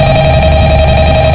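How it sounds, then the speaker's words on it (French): A telephone rings in the horror video game Five Nights at Freddy's, a steady electronic ringing tone that is loud and continuous throughout, with no pauses and no other sounds. "un téléphone sonne pendant tout ce blanc"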